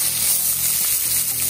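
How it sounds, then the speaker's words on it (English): Green onion, onion and pimento pepper seasoning sizzles in hot oil, a continuous bright crackle, close and steady throughout. "Beautiful sizzle that we are hearing there."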